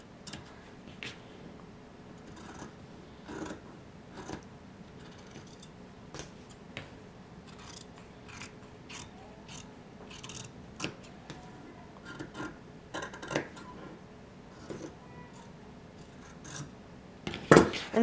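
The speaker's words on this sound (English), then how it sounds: "I'm going to want to go ahead and cut off a lot of the seam allowance" Scissors snipping away fabric seam allowance on a sewing project, with a steady series of small, crisp cuts and rustles up close and no talk.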